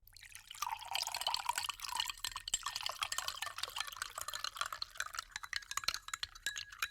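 A horror video game plays a kitchen water-drinking effect: close, wet pouring and dripping with sloshing gulps and small clinks that run steadily for several seconds.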